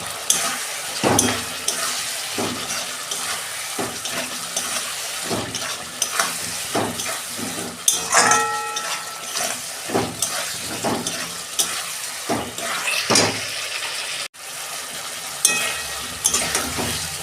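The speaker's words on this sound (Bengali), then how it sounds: "মশলাটা দিয়ে আমি একটু কষে নেব। এই যে ঝাল লঙ্কার গুঁড়ো আমি অল্প দিচ্ছি।" Spices with chili powder are sautéed and stirred in a pan for a Bengali fish curry with ridge gourd and potato, giving a steady close sizzle and frying hiss broken by repeated scraping stirs and occasional clinks of a utensil.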